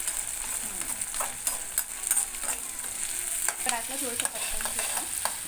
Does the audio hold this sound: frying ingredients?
yes